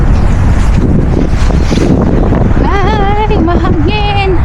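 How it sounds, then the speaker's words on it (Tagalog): Strong wind buffets the microphone with loud, constant roaring rumble, while a voice speaks near the end over the gusts. "Ang lakas ng hangin."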